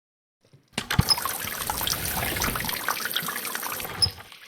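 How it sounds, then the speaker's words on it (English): Water gushing from a tap in The Raven, starting abruptly after a brief silence and running steadily and splashily for a few seconds before tapering off. "Maybe the tap is meant to depressurize the water tank if it rains too much."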